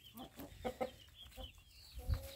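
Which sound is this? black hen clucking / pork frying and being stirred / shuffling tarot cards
black hen clucking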